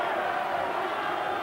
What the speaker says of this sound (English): Suddenly the crowd come noisily back to life.